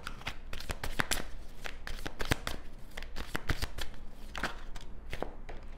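A deck of tarot cards is shuffled by hand, a rapid run of crisp riffling flicks and slaps up close, steady and busy throughout with no talking.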